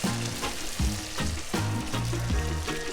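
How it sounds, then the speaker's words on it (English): Fried onions being stirred back into a lamb potjie stew pot, crackling and sizzling steadily with scraping stir strokes in a fairly close, continuous mix over a low steady background tone. "So what I do now, chuck the onions back in again."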